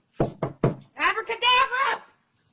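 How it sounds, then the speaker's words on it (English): Three sharp knocks on a door by a delivery driver, evenly spaced and close, followed at once by a loud voice shouting. "knock on the door 3 times and scream abracadabra as loud as you can and run super fast away"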